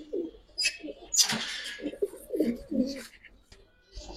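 A female red Giribaz pigeon coos in repeated low, throaty bursts close to the microphone, with a few higher chirps from other birds mixed in.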